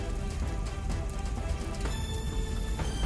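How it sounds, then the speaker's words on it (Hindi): Steady rain pours down during a cartoon story scene in which a hotel run by two old women is on fire, a dense continuous patter of drops hitting surfaces with no voices over it. "होटल में आग लगते ही बारिश हो गई।"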